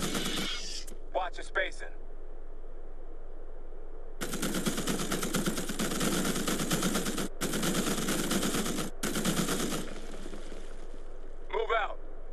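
Heavy automatic gunfire in the PC strategy game Starship Troopers Terran Command, sustained bursts lasting several seconds with brief breaks, loud and close, with a short radio-style voice line before and after.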